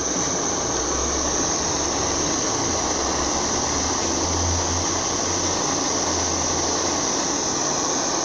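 Gas torch heating a fluxed brass plate before silver soldering with 40% silver solder, a constant loud roaring hiss that holds steady and unbroken throughout, close by, with no talking.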